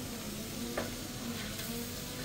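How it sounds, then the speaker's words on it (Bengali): One kilogram of red lentils is added to rice frying in a pot for bhuna khichuri, producing a steady, loud, close sizzle with faint scraping from stirring. "এখানে 1 কেজি মসুর ডাল আছে, 1 কেজি মসুর ডাল দিয়ে দিলাম"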